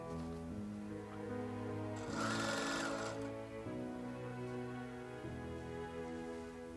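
A sewing machine stitches a 1.5 cm seam allowance around a double-breasted jacket remade from Oshima tsumugi kimono silk, its steady motor hum running throughout, with a brighter, louder burst of stitching midway.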